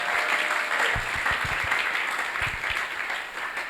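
A church congregation at a Sunday service bursts into loud, sustained applause, with rhythmic clapping and cheering acclaiming the Lord, holding steady throughout before easing slightly at the end.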